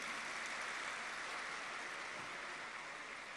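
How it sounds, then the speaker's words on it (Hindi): A large audience claps loudly and steadily at a spiritual gathering, a dense continuous wash of applause with no voices over it. "जोर से ताली और बजाइए।"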